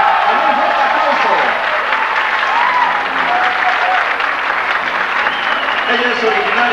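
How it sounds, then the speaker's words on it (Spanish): A crowd at a carnival queen presentation in Tecolotlán breaks into sustained, loud applause that holds steady for several seconds, dense clapping from many people with faint voices mixed in. "la recibimos con un fuerte aplauso"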